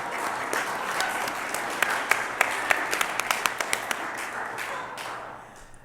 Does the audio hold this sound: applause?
yes